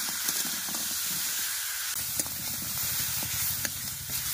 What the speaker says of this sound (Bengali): আর কাঁকড়াগুলো দিয়ে দেবো একসাথে, আবার খুব ভালোভাবে ভেজে নেব।